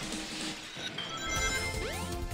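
Glass shattering in the Sonic Adventure randomizer game, a bright crash with a rising sweep of tinkling shards under steady game music and sound effects.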